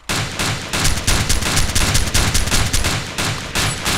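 Heavy automatic gunfire in an Arma 2 DayZ Overpoch firefight on Taviana, rapid overlapping bursts of shots crackling densely and nearly continuously for about four seconds, loud and close with brief gaps between volleys.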